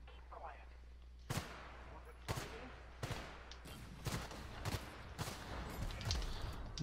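Gun fired in The Outer Worlds: about eight single shots spaced roughly a second apart, sharp but moderate in level over a steady low background hum, with faint talk now and then.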